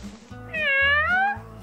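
A single drawn-out cat meow rises and falls, clear and close, framed by short low thumps before and after.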